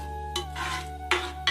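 Spoon scraping and stirring dhal rice in a pot, with a few sharper clinks against the rim amid a steady low hum.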